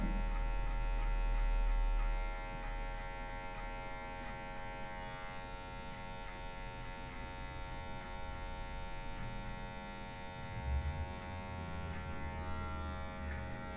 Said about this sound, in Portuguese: você vem só com a ponta da máquina, tá vendo?